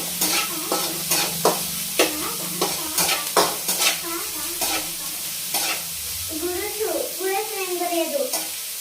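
Onions fry on a low flame in a pan for egg bhurji, with a soft sizzle under repeated scraping spatula strokes that come in an uneven rhythm, and a brief voice comes in near the end.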